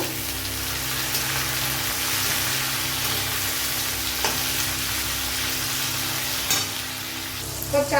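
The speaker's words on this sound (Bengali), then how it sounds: "ভেজে নেব" Onions and tomatoes frying in a pan: a dense, steady sizzle with occasional stirring clicks, close and continuous, no talking.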